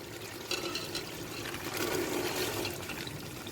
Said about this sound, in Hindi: तो इसके अंदर मैं मटर डाल देती हूँ।